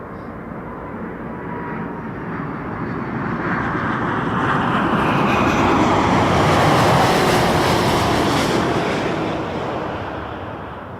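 Airliner taking off from a runway at Toronto Pearson Airport: a loud, broad jet engine roar that swells steadily to a peak and then begins to ease, heard alone without voices.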